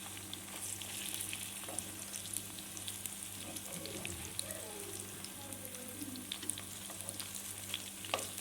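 Shahi seekh kebabs frying in a pan with a steady, gentle sizzle and soft spitting crackles throughout, fairly quiet and close, with no talking.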